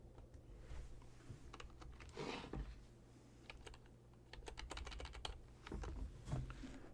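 Quiet bursts of clicking keystrokes on a computer keyboard, typed in quick runs with short pauses between them, close by.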